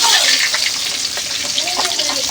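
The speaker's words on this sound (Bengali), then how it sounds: "মাছটা আমি ভালো করে ভেজে নিচ্ছি।" Tilapia fish frying in hot oil, a steady close crackling sizzle with brief scraping touches, no talking.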